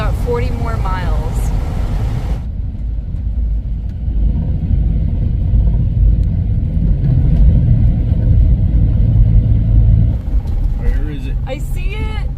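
A 1956 Chevy cruising down the highway gives a steady, full low engine and road rumble that runs through the whole stretch, with brief voices at the start and end.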